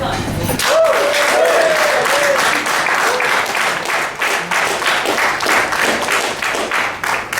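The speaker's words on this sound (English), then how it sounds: "please give a humongous round of applause for our first guest of honor" An audience at a Toastmasters chartering ceremony applauds the guest of honor. The clapping is loud and sustained for several seconds, and a voice briefly sounds over the start.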